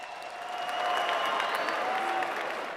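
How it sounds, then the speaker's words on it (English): Applause from a crowd at a live combat-sports event honours two fighters after a co-main-event bout, a steady wash of clapping that swells and holds from a moderate distance. "how about a round of applause for both these warriors in our co-main event tonight?"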